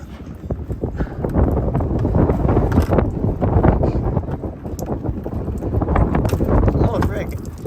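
Strong gusty wind buffets the microphone outdoors while a Ford F350 fuel filter is swapped, a loud continuous low rumble with surges throughout, and speech faintly mixed in.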